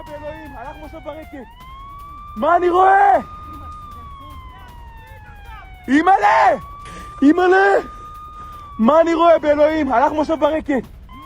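A long air raid siren in Tel Aviv rises and falls in the background while someone speaks in several bursts over it.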